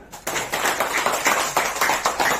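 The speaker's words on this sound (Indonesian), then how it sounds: "yang setuju tepuk tangan" Audience clapping in agreement during a training seminar, a small group of hands beating in a fairly regular rhythm, close and moderately loud for a couple of seconds.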